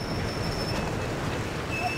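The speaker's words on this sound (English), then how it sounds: "when you're driving the train" Train running in the video game Battlefield 1, a steady rumbling rail drone with faint high wheel squeal tones drifting in and out, continuous and close for the whole stretch.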